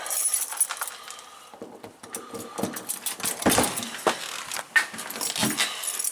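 Keys jangle and clink in bursts over several seconds, close by, with scattered metallic chinks and rustling and no voices.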